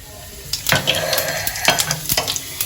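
Dried chillies, fennel and cumin crackle in hot mustard oil as a tempering, a busy close sizzle punctuated by several sharp clinks and scrapes of stirring against the pan.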